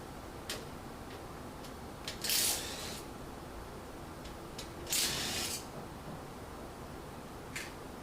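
A screwdriver works on parts of a Panasonic drum washing machine, giving faint, sparse ticking clicks of the ratcheting tool and two short, louder scraping rasps around the middle, all fairly quiet and close with no speech.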